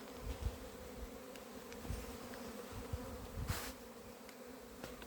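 Honeybees crowd a hive in an apiary with no room to expand, a dense continuous buzzing drone with occasional louder individual bees passing near, no voices.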